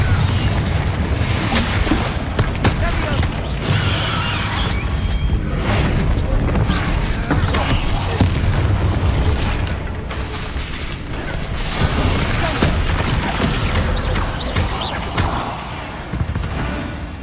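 Bombarda and Confringo spell explosions in Hogwarts Legacy, a dense, continuous barrage of loud booms, crashes and rumbling impacts that barely lets up for the whole stretch.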